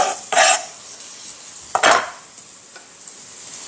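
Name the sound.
minced garlic stir-fried in hot oil in frying pan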